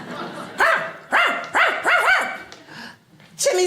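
A man imitates Lassie the TV dog barking, with four or five loud, rhythmic vocal barks and a yelp near the end during a comedy stand-up act.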